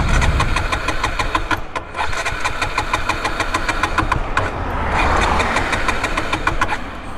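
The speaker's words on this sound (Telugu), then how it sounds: "పెట్రోల్ అయితే కాలైపోయింది, చూద్దాం మరి ఏమైనా మళ్ళీ స్టార్ట్ అవుతుందేమో." A KTM Duke 125 motorcycle that has run out of petrol is cranked repeatedly, a rapid, even ticking churn close by that swells briefly as the engine tries to catch, then keeps turning over.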